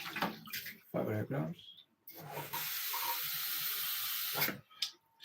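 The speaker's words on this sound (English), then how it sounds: "Grab a little bit of water" A kitchen tap pours water for a few seconds in a steady hiss while cooking Afang soup with oats, with close speech before and a short clatter around the flow.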